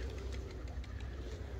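Pigeons cooing and fluttering outdoors, soft repeated calls over a steady, dense background rumble with no clear talk.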